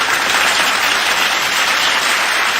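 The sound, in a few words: applause sound effect played on livestream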